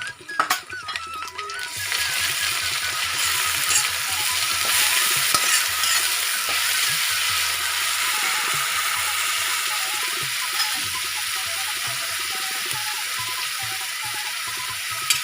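Onion paste sizzles loudly and steadily after being added to a hot frying pan for a Bengali jackfruit and potato dish, a continuous hiss with occasional stirring scrapes.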